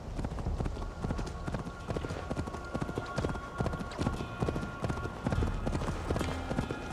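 Horse hooves clip-clop in a steady, rhythmic trot in Assassin's Creed Valhalla video game, close and prominent, over a constant background drone.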